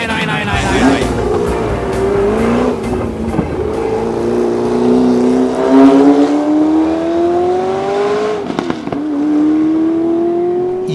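Race cars at the Classic Race Aarhus 2014 event, a loud engine howling and climbing in pitch as it accelerates past close by, with brief gear-change dips and someone talking over it.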